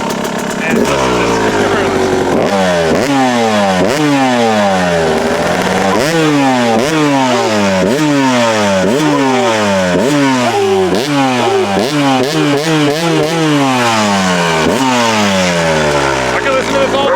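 A modified Yamaha YZ250 two-stroke dirt bike engine with 60 thousandths machined off the cylinder revs loudly and repeatedly, rising in sharp rhythmic blips close by and sustained without pause.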